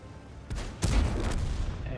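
A tank cannon firing in the World of Tanks video game: one heavy, close boom with a sharp crack and a rumbling tail, preceded by a smaller thump and followed by lingering battle noise.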